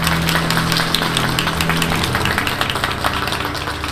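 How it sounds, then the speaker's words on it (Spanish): Audience applause at an evening event launching a fragrance, a broad roar of clapping that holds steady and then thins slightly, with a low tone fading out partway through. "Un aplauso,"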